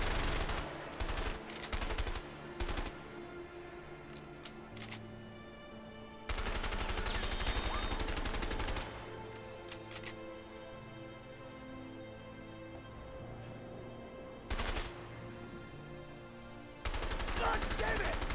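Gunfire in the co-op prison-escape video game A Way Out, with repeated loud bursts of shots and rapid automatic fire coming in heavy clusters, interspersed with quieter stretches of game ambience and music.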